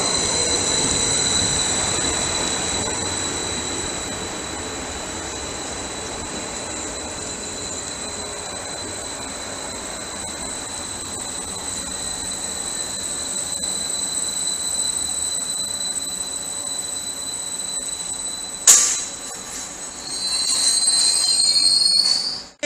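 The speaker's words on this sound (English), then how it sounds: "Incoming now, we have a cross-country service to Stansted Airport from Birmingham New Street." A CrossCountry passenger train from Birmingham New Street bound for Stansted Airport pulls into Ely station, giving a steady rumble with high wheel squeal throughout and a sharp clank near the end, alone without talk.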